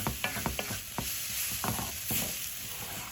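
Vegetables for a simple stir fry are stirred in a hot pan, with irregular scraping and clattering strokes over a steady sizzle, close and moderately loud, with no talking.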